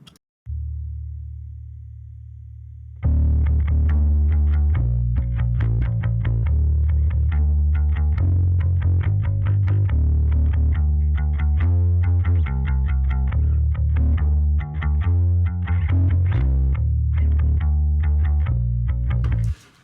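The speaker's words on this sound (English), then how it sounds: "So I'm going to let you listen to the bass solo" Isolated bass guitar solo from a song, opening with a sustained low note and then a busy run of plucked notes with a chorus-like shimmer and some grit, played alone without other instruments or voices.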